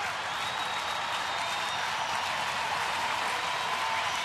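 Sellout ballpark crowd at a Cleveland–Detroit baseball game applauding steadily, a dense, continuous wash of clapping and cheering filling the stadium for the whole stretch, with no distinct voices standing out.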